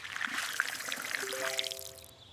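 Water is poured from a container onto the soil around a newly planted tree, making a faint, steady trickle and splash that fades out at the end.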